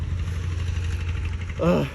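A tractor engine runs nearby on farmland with a low, steady rumbling hum throughout, and a voice briefly speaks over it near the end.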